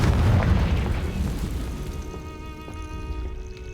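A Confringo fire spell explodes in Hogwarts Legacy, a heavy booming blast with a deep rumble that slowly fades into a lingering ringing tail, loud and close with no talk.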